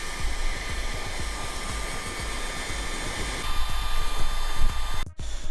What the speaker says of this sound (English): I just put the heat gun on there.